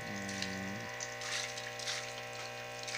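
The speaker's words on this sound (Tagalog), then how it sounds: "Simple DIY airlift pump." A homemade airlift pump gurgles softly as it lifts water, with a steady low electric hum from the air pump underneath faint bubbling and splashing.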